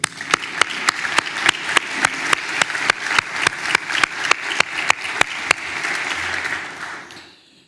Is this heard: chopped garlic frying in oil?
no